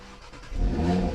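A 2018 Audi RS3 with its five-cylinder engine firing up: quiet hum, then a loud low-pitched surge about halfway through that settles into a steady rumble, no voices.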